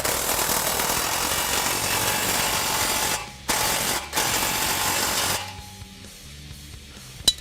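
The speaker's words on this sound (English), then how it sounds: "you can tighten the front clamp to the H pipe." A ratchet tightens the front exhaust clamp on the H-pipe of a 2015-2017 Mustang GT during an MBRP 3-inch aluminized Street Series cat-back install. It makes a fast, steady mechanical buzz for about three seconds, pauses briefly twice, then drops to a quieter clatter.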